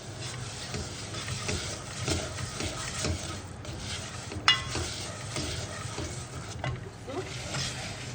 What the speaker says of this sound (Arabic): هنسيبهم بقى يتحمصوا وبعد كده ننزل بالرز